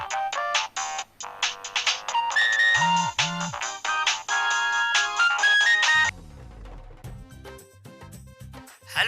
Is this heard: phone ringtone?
yes